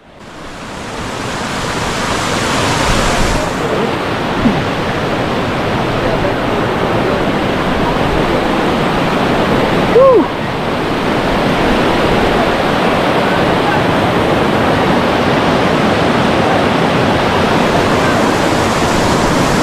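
Water pours over Kelva Dam, making a loud, unbroken roar of a waterfall heard up close, with a brief bump and a faint voice partway through.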